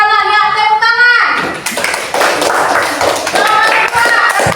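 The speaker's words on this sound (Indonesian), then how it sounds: "Ya, tepuk tangan." Schoolchildren in a classroom clap their hands together after a classmate answers during a science lesson, loud close rapid clapping that starts just after a sung or spoken tone and continues densely to the end.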